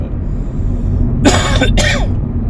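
A couple of short, dry coughs break through a steady low background hum, close to the listener.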